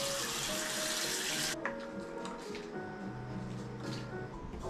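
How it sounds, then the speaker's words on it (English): Tap water runs loudly as a bald head is rinsed, a strong close gush that cuts off abruptly partway through, leaving quieter drips and small handling noises. "Let me rinse my head off first."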